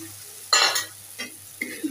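Eggs being fried bhuna-style in a pan, giving short bursts of sizzle and stirring scrapes against a low steady hum, with one louder burst near the start.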